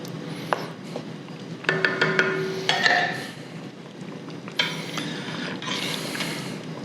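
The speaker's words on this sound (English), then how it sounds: "Give it a quick stir." Soup is stirred quickly in a pot with a spoon, making light scraping and clinking of metal against the pot with a few sharper taps, fairly quiet, with no speech.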